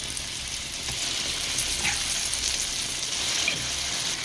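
Ground tomato paste mixture hits hot oil for tomato thokku, sending up a steady, loud sizzle that crackles evenly throughout with occasional sputters, no talking.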